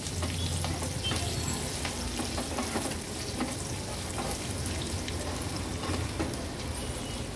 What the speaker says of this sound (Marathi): फोडणी आता मिक्स करून घेते मी